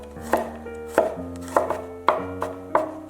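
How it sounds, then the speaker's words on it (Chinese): A knife mincing two garlic cloves on a cutting board for a Chinese tofu and chive dish makes about eight crisp, evenly spaced chops, each one close and distinct over soft background music. "再准备2瓣大蒜切成末"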